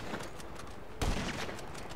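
Gunfire in the online game GTA Online: a sharp loud shot in the middle stands out over faint, rapid distant fire and game noise, with no speech.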